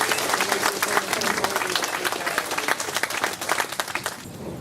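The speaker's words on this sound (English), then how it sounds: "One more big clap for the team" An audience at a Warmachine/Hordes tabletop gaming event prize ceremony applauds, giving steady, dense clapping from a crowd that holds for several seconds and thins slightly at the end.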